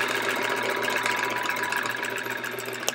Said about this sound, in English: now I'm just sewing down that edge